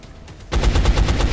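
A rapid burst of automatic gunfire erupts in XCOM: Enemy Unknown, loud and close, after a quiet lead-in, rattling in a steady run of shots to the end.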